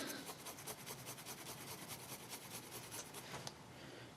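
Excess paint is wiped and rubbed off a Tamiya 1/12 scale figure in quick, rhythmic scrubbing strokes, soft and close, stopping near the end, with no talk.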